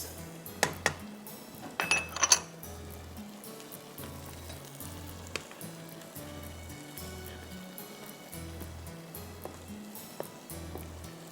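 Onions sizzle in a pan of almond or cashew paste for dumpukht, a soft steady frying hiss with a few clinks of a utensil against the pan near the start.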